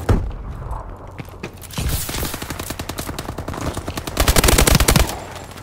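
An enemy turret in the video game Call of Duty Advanced Warfare fires rapid automatic bursts, a dense rattling stream of shots that grows louder and heavier toward the end, heard without talk.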